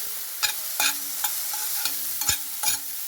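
Boiled potatoes sautéed in a pan give a soft, steady sizzle, broken by regular scraping stirs of a spoon, about seven strokes, close by and with no talking.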